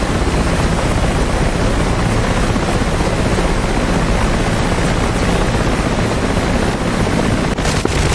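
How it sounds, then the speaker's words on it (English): Helicopter in the DCS World flight simulator, a steady loud rotor and turbine roar with broadband wash that holds evenly throughout, close and continuous with no talk over it. "Cap, permission to lift off from your chopper?"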